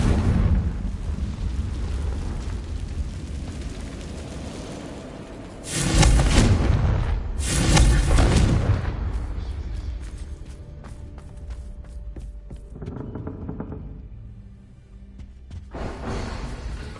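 Confringo fire spell from Hogwarts Legacy, two loud booming blasts in quick succession, followed by quieter rumbling game sounds and a softer burst near the end.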